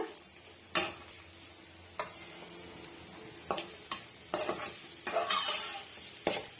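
Potato stuffing sautés in a pan over a medium flame, a faint steady sizzle broken by scattered scraping strokes and light taps of the spatula against the metal, no voices.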